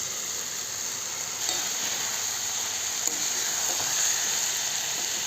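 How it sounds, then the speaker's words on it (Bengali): Peas and potatoes fry in a pan with whole garam masala and a little tomato sauce for ghugni, cooked with little oil, giving a constant hissing sizzle with a few faint stirring clicks, close up and without speech. "অল্প কিছুক্ষণ কষিয়ে নেব।"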